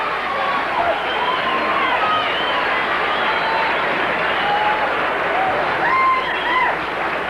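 Boxing crowd at a championship fight between Roy Jones and Bernard Hopkins applauding and cheering as a steady, dense roar, with whistles rising above the din throughout.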